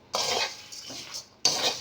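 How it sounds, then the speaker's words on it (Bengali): A spatula stirs fried jhuri snack into spiced flattened rice in a pan on a gas stove, giving three short scraping strokes, close and fairly loud with gaps between; no voices. "ঝুড়ি ভাজা দিয়ে আমি আবারও একটু নাড়বো, নেড়ে গ্যাসটা বন্ধ করে দেব।"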